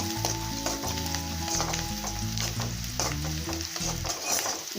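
Onion sautéing in a pan gives a steady, close sizzle with stirring scrapes and clinks, and faint music plays in the background.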